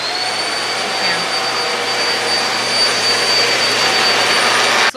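A lightweight two-setting vacuum cleaner runs at strong suction, a steady loud whining roar with a high tonal whine, holding constant for about five seconds before cutting off abruptly at the end.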